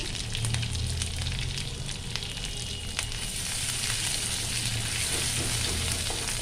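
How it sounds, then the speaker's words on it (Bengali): Grated ginger, ginger paste and torn green chillies with panch phoron frying in oil in a pan, a steady close sizzle throughout with faint clicks, no voices. "আদা বাটা দিয়ে দিলাম, অল্প আদা গ্রেট করে নিয়েছি, কিছু কাঁচা লঙ্কা ছিঁড়ে দিলাম"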